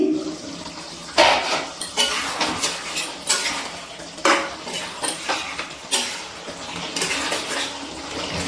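Kadai chicken being stirred in a pan on a low-to-medium gas flame: repeated spoon or spatula scrapes and clinks against the metal, with wet sizzling bursts of meat and sauce coming in irregular strokes, close and clear.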